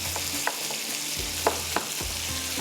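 Irani kabab frying over high heat with onion, tomato and spices, a steady loud sizzle broken by a few sharp stirring scrapes and clatters, with no voices.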